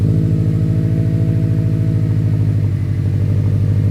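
A 2015+ Subaru STI idles with a worn axleback muffler, giving a steady, close, low rumbling exhaust burble with an even pulsing beat throughout.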